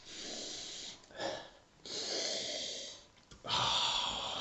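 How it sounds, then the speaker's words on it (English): A person takes several audible sniffs and breathy inhales, nose close to a cup of mild coffee, in short bursts separated by brief pauses, with no talking. "Well, first I'll have a sniff."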